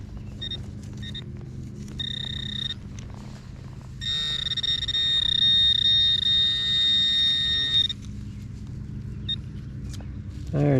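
Metal detector giving steady electronic tones on a buried penny outdoors, short beeps early on followed by a longer sustained tone, with low background rumble and some handling noise.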